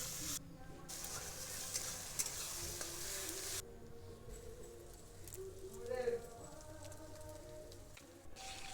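Chili and turmeric fry in a pan with ginger and garlic for Bengali chicken kosha, a steady sizzle with stirring scrapes, quiet and close, under a voice talking.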